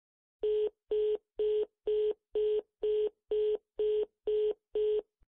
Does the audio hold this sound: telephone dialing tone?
yes